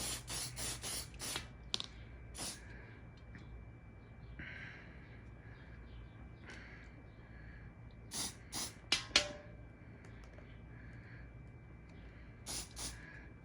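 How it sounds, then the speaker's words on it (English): Leather protectant sprayed onto a handbag in short aerosol hisses: a rapid cluster of bursts at the start, scattered single puffs through the middle, and a tight group near the end, all close and moderately loud over a quiet room. "Spray back and forth."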